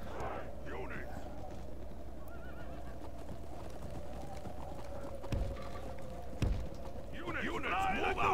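Cavalry horses in a Novgorod campaign battle game, with steady hoof clatter and a whinny or neigh near the end over a constant low battlefield rumble, with brief thumps in between.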